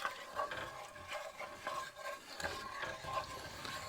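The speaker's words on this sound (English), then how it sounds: "And next, we're just gonna add these diced petite tomatoes." Diced petite tomatoes going into a sizzling pan with garlic and onions, stirred with repeated scraping strokes over a steady frying hiss at a winter truck-camper cooking spot, close and moderately loud with no talking.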